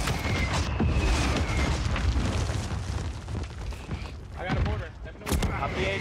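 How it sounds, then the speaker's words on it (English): Mortar explosions and heavy gunfire boom in a Warzone 3 battle, a loud, dense barrage of blasts with bursts of player chatter underneath. "Mortar."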